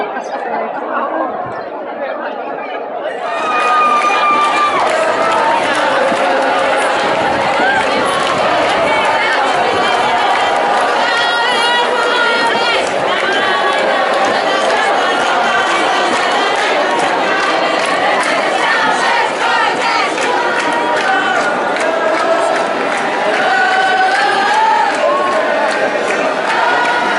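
A big crowd welcomes Shabbat at the Western Wall in Jerusalem, a dense, continuous wash of chatter, singing voices and occasional shouts that swells in after a quieter opening and stays loud throughout.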